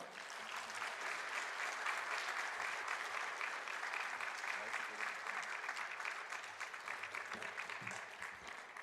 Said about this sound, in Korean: 우리 이 시간 목사님 나오실 때 뜨거운 박수로 맞이하겠습니다.